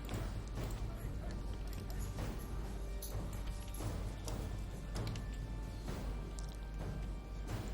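Horse archers gallop across a Medieval 2: Total War battlefield, a quiet, steady rumble of many hooves with soft repeated thuds running throughout.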